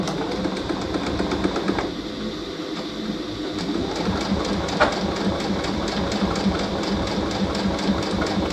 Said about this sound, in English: All I'm doing is sewing I'm sewing fabric together